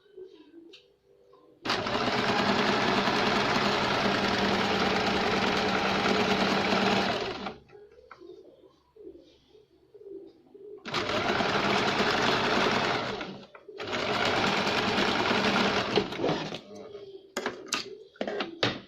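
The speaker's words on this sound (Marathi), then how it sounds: "इथं फिटिंगची शिलाई देऊ." Sewing machine stitching the side fitting seam of a princess-cut boat-neck blouse, running in two long bursts with a short stop between them and a few quick clicks at the end, with someone talking quietly in the gaps.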